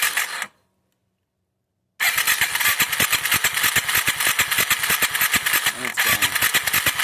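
A Yamaha TW200 motorcycle with its ignition coil under test cuts to silence. Its engine then cranks and catches, settling into a close, rhythmic chugging idle.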